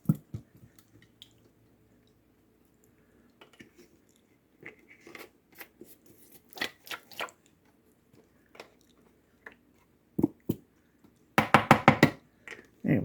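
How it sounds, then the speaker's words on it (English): Homemade salad dressing is stirred in a bowl, heard as soft, irregular clicks and knocks of a utensil against the bowl, quiet at first and building to a denser burst of scraping taps near the end. "Now let's get it all stirred up."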